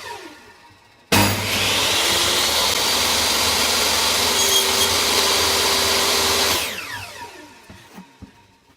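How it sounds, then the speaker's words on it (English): Table saw with a sled cutting a notch in a piece of wood: a loud, steady whining cut that starts abruptly, holds for about five seconds, then spins down. "So I built this table saw sled to help with this"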